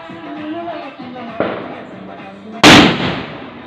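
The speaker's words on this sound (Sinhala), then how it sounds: "නැතනම දැන් අලි වෙඩිල්ලක්" A large ali wedi firecracker goes off during Sri Lankan New Year celebrations: a single sharp, loud blast near the end with a brief ringing tail, following a quieter stretch of background murmur and voices.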